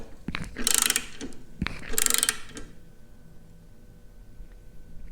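A ratchet wrench clicks in two quick bursts as nuts are tightened on a RotoPax fuel can mount on a Kawasaki Versys X 300 motorcycle, close and loud, followed by quieter handling sounds.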